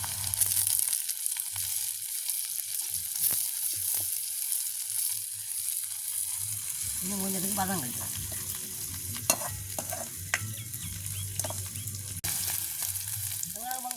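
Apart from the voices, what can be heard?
stir-frying vegetables in a pan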